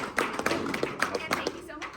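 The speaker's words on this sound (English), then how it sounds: "give yourself a round of applause" An audience at a political speech event in Hespeler claps in a sustained round of applause, dense and fairly close, with a voice speaking over the clapping.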